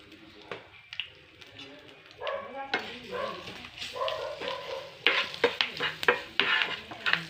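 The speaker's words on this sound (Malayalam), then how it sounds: "ഇതൊന്ന് നമ്മൾ കടുക് വറുത്ത് ഇടുന്നുണ്ട്." Mustard seeds fry in hot oil for tempering: a close, irregular crackle with sharp popping bursts that grow busier toward the end, with faint noises in the background.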